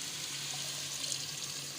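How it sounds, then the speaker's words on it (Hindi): Water pours steadily into a hot pan of chicken and chana dal, a continuous rushing hiss with faint sizzling, close and fairly loud, no talking. "और इसमें हम पानी डालकर,"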